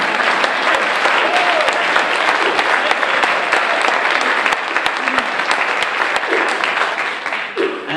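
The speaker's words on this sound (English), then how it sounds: "That's a round of applause worthy." An audience breaks into sustained, loud applause, a dense field of clapping with scattered sharp claps and a few faint voices and cheers, easing off slightly near the end.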